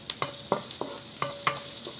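Garlic frying in a pan for a pork dish, with a few sharp stirring scrapes and clicks over a soft, steady sizzle.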